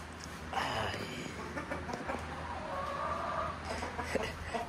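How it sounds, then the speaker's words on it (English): Chickens cluck softly in a workshop during a front drive axle seal job on an LMTV truck, faint and intermittent over a steady low hum, with no one talking. "chickens are in here"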